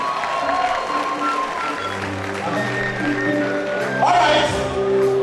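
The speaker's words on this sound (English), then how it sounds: "Please, another round of applause for him." An audience at a university pharmacy oath-taking and induction ceremony claps in a moderate, steady round, with a sustained tone and some background noise underneath.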